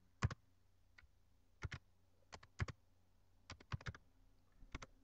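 Bursts of keystrokes on a computer keyboard as form details are filled in, close and fairly quiet, arriving in short irregular clusters separated by brief pauses.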